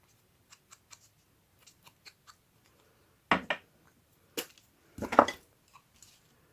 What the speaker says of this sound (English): So I'm going to cut this one.